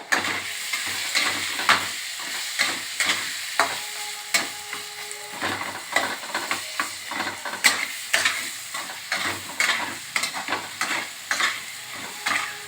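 Masala and salt for a fish curry with cauliflower and potato being stir-fried in a pan: steady rhythmic spatula scrapes, about two per second, over a light sizzle, close and clear with no talking.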